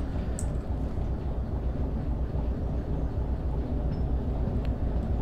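A train in the video game Derail Valley rumbles in a deep, continuous low roar with faint rhythmic clatter, steady and close throughout.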